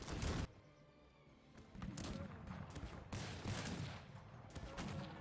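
Cannon and musket fire in a Cossacks 3 battle, with repeated bursts of volley gunfire and booming shots arriving in clusters over a low rumble, loud and dense, without talk in between.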